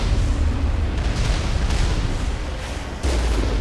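A rocket barrage pounding the Mako armoured vehicle in the Mass Effect video game: a loud, continuous wall of rumbling explosions and blasts with a brief dip before another heavy surge, no talking.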